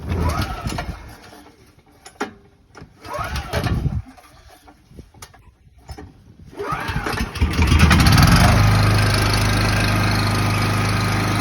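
A Briggs and Stratton small engine converted to run on propane is pulled several times, then catches and settles into a loud, steady running drone after a few sputtering attempts.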